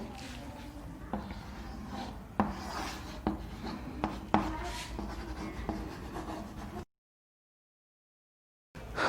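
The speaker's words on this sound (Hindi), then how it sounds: "लिख देता हूं इसको" Chalk or marker writing on a board in a thermodynamics lesson, a series of close scratching strokes with sharp taps at the ends of marks, steady and fairly quiet, followed by a brief gap of silence.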